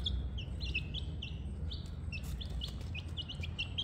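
Caipirão chicks, a giant free-range chicken breed, chirp in repeated high peeps while eating wet feed, the calls scattered and overlapping above a steady low background rumble, with no talking.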